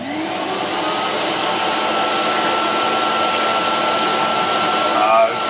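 An Electrolux XII vacuum cleaner with a cloth bag runs continuously nearby, a steady whirring motor drone that holds constant and lightly swells near the end.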